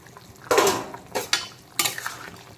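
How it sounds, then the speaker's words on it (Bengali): Fried kajli fish is added to a potato curry and stirred, three distinct bursts of scraping and clattering from a spoon against the pan over a faint sizzle, close up. "তো এখন দিয়ে দিচ্ছি ভেজে রাখা কাজলি মাছ।"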